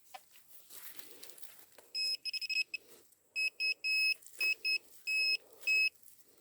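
Metal detector pinpointer used while digging for buried finds outdoors, giving a run of loud, clipped electronic beeps in irregular bursts against faint background noise.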